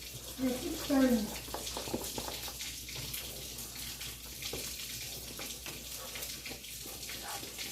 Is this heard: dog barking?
no